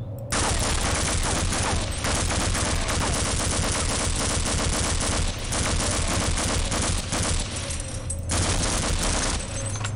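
Sustained, loud enemy gunfire from Half-Life fills the scene, a dense rapid barrage of shots that rarely lets up, with only brief dips in the volume.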